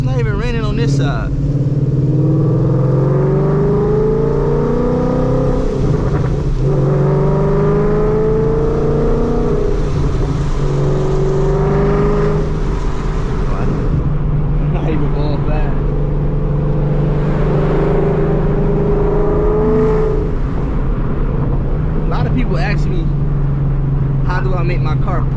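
A 2014 Ford Mustang GT downshifts with exhaust pops, its engine a steady low rumble beneath near, continuous talking, with a few sharp bursts scattered through.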